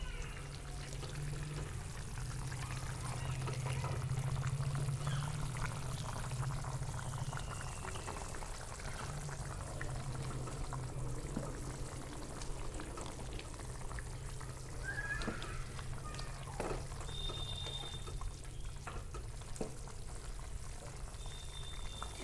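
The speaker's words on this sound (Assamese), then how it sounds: "এয়া চাব পাৰে মোৰ আঞ্জাখন উতলি আছে।" Assamese-style local chicken curry simmers in a pot, giving off a quiet, continuous bubbling and fizzing with an occasional faint higher tick, steady throughout with no talking.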